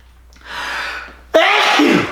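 A loud, sudden burst of air at close range, preceded by a breathy inhale, like a sharp sneeze.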